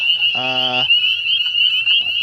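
Leopard frogs call from a swamp at night, one short harmonic croaking burst standing out clearly against a steady high-pitched chorus of insects or peepers.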